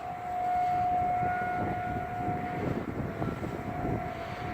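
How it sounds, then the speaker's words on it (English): Outdoor warning siren sounding during a monthly test in Austin, heard from an apartment building close to the siren: a steady, sustained wail holding one pitch, fairly loud and continuous with city background hum beneath, no talking. "My apartment building is pretty close to a siren."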